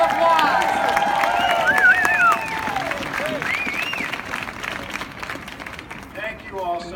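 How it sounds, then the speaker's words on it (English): An audience applauds as Portland's mayor, Charlie Hales, is introduced at a gun-safety rally, the clapping loud at first and then thinning, with cheers and whoops rising over it. "Let's give him a round of applause."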